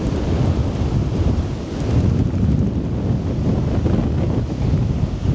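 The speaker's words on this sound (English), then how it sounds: "To give you an idea of how strong that wind is" Strong wind buffets a microphone on a cliff top where peregrine falcons nest, a loud continuous low roar that rumbles and gusts throughout with no voices.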